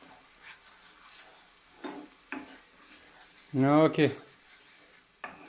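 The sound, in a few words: sautéing oil, tomato and spices in a pan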